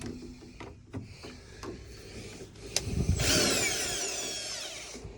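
Power drill boring into drywall between studs during a Rheem water heater install, with a few knocks and taps before a loud whining run that ramps up and holds near the end.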